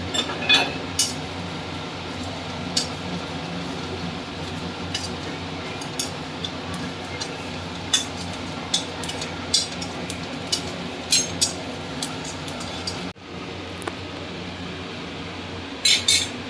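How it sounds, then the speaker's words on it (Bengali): Black cumin seeds dry-roast in an oil-free pan, a soft continuous rustling hiss broken by frequent light clinks and taps of a utensil against the pan. "একদম শুকনো খোলায় আমি কালো জিরেটা ভেজে নিচ্ছি"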